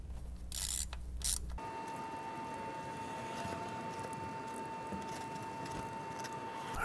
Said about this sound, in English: I'm gonna gently snug these with the 1/4 inch ratchet.